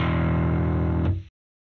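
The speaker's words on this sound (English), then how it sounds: "A little more distortion again." Heavily distorted bass guitar through a Marshall amp plugin, one sustained low note ringing loud and thick with harmonics for about a second before being cut off abruptly, no voices.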